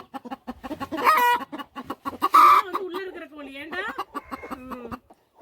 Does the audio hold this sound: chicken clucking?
yes